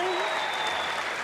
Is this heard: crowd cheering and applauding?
yes